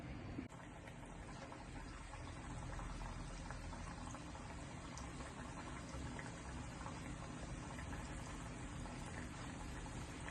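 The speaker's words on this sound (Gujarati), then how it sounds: "ધીરેથી એને તળવાની છે" Onion kachori frying slowly in hot oil: a dense, steady bubbling sizzle that runs unbroken and fairly loud for the whole stretch, with no voices.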